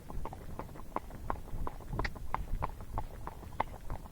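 Hooves of a horse moving at a steady rack gait strike the ground in an even four-beat clip-clop, fairly close and unhurried, with no talking over it.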